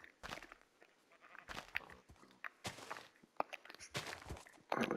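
A Minecraft sheep bleats several times in quick, fairly loud bursts, close by, with footstep crunches between the calls.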